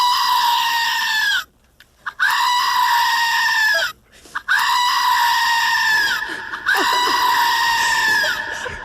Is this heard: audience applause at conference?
no